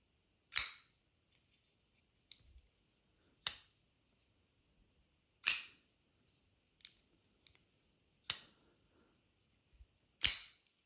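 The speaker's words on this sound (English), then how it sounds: "I'm going to deploy this blade and just listen" Blade of a Kizer folding knife deployed repeatedly, sharp crisp snaps about every two seconds, close and loud against near silence, with fainter small clicks between them.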